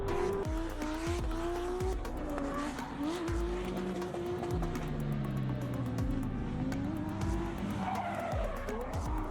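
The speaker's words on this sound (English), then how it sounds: "Even drifting professionals don't always get it right, so think twice before trying drifting." A drifting car slides with sustained, loud tire squeal over a roaring engine that rises and falls in pitch, with repeated skids throughout and no talk.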